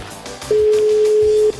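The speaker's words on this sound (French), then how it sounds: "Ça sonne." A single steady telephone ringing tone lasts about a second, sounding clearly over soft background music.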